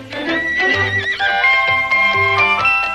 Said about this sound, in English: Disneyland's horses never had it so good